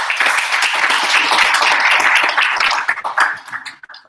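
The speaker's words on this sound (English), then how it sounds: "One round of applause for him." A crowd at an angel investor bootcamp in Lagos applauds steadily with dense, sustained clapping that fills the room, then thins out and tapers off toward the end.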